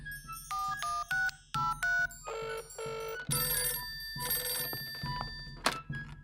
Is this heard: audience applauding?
no